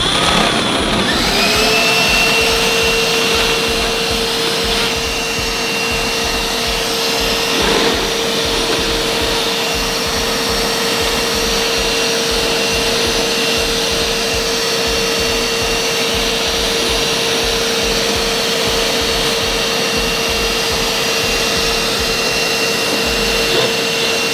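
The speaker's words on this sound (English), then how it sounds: "I've just got a small countersunk drill bit." A drill with a small countersink bit deburring cut metal edges whirs continuously at a steady high pitch for a long stretch, loud and close, with a faint scraping texture underneath.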